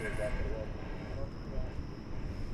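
An airplane flying near DFW Airport, its engine drone a steady, moderately distant roar throughout.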